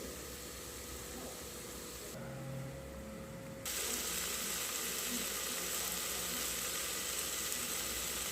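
Potatoes tumble into onions already frying in a pan, the steady hiss cutting out briefly and then returning louder and fuller as the sizzle picks up, with no talking.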